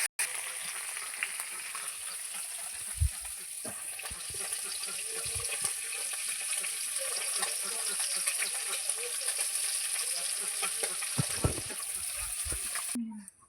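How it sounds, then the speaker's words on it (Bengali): Salted fish sizzles and spits in hot oil in a wok in a village kitchen, a steady close frying hiss throughout with occasional low clatters and knocks. "কড়া গরম হয়ে গেছে, কড়ার মধ্যে তেল দিয়ে দেওয়া হয়ে গেছে। এবারে মাছগুলো ওর মধ্যে দিয়ে ভেজে নিচ্ছি প্রথমে।"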